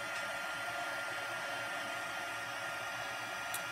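A heat tool blows steadily as it melts clear embossing powder on a stamped card, a constant close, loud whooshing hum with no talking.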